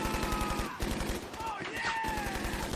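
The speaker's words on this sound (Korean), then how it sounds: "모든 게 가짜라고 생각했던 터그는 모용총으로 그들에게 응사했고" Bursts of film gunfire in a drug-dealer ambush scene, rapid repeated shots crackling steadily over a dense, loud action soundtrack.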